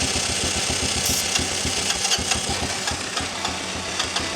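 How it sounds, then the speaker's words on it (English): A 1985 Honda Elite scooter engine turning over and sputtering on starting fluid, a loud, continuous, uneven rattling run with irregular pops and knocks throughout. "I'm just gonna keep doing a few cycles of starting it on fluid and see if it eventually will stay running"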